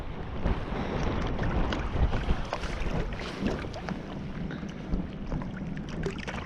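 Wind buffets a microphone on a lakeshore during stillwater fly fishing in the UK, a steady broadband rumble and gusting roar with some water lapping, loud and close with no voices.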